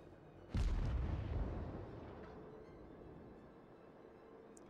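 A single loud booming salvo of warship guns in World of Warships erupts near the start, then rumbles and fades slowly into a steady low roar, with a faint sharp report right at the end.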